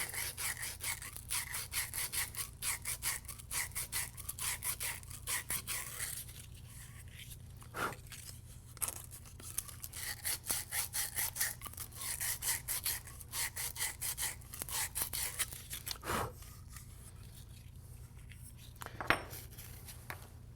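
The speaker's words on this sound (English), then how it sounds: "we're going to use some sanding cloth to get them clean." Sanding cloth rubs rapidly back and forth over copper pipe ends, a dense rhythmic scratching close by with a few sharper metallic knocks and a low background hum.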